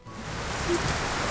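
Rain falling outdoors on farmland, a steady broadband hiss that rises in over the first moment and then stays even and moderately faint, with no voices.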